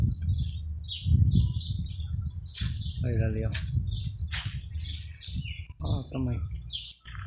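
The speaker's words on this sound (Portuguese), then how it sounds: "Esse aqui é um dos passarinhos menores do Brasil." A small Brazilian bird chirps outdoors in a town, with short high calls heard intermittently beneath a person talking nearby.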